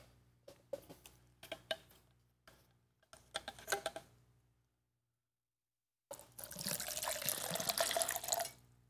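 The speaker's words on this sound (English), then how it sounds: "The more water I put in this cup, the less air I've got." Water pours into a cup in a broad steady rush for a couple of seconds, preceded by scattered clicks and knocks with a short pause between.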